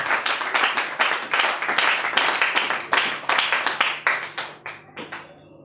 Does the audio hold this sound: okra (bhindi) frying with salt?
no